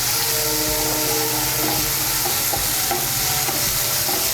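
Green chili paste and turmeric are stirred in a hot pan for a hilsa and eggplant curry, a loud constant sizzle with a faint low hum and occasional scraping taps of the spoon.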